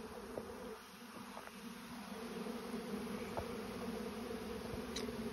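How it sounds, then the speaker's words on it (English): A swarm of honeybees buzzes densely around a bait hive outdoors, a continuous close hum with individual bees zipping past the microphone. "So many bees."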